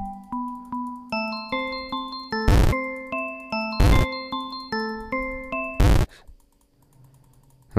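Rapid bursts of game clicks while a character is being attacked in Baby's Nightmare Circus, heard as quick repeated tinkling tones with three loud sharp hits spaced between them, then a sudden drop to near silence.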